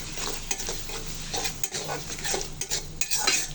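Spice masala with green chilli and dried chilli powder fries in a pan, with a continuous sizzle and frequent scraping, clinking stirs of a utensil against the pan, close and moderately loud with no talking.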